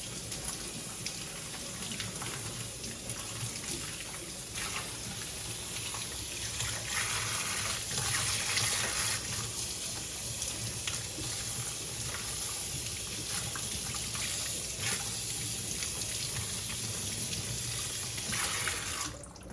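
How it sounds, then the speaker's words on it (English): Tap water running steadily into a sink while meat is washed for birria tacos, a continuous splashing hiss with faint shifts as the flow is disturbed, no talk. "Make sure you always wash your meat too."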